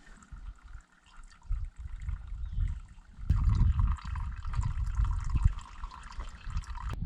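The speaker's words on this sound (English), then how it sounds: "I'm filtering the water I got out of the cistern last night." Water drawn from a cistern trickles and pours through a filter at a backcountry cabin, a quiet dribble at first that turns into a fuller, steady splashing flow halfway through.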